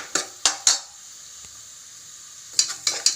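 A spoon strikes and scrapes a pan while onions are sautéed with a little salt for tomato rice, giving a few sharp close clinks, a quiet pause, then another quick burst of taps.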